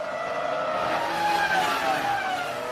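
Engines of Formula 1 cars in the F1 2005 game, German Grand Prix, howling at high revs as the pack races into the first corner, layered pitch sweeps and tyre squeal, loud and continuous.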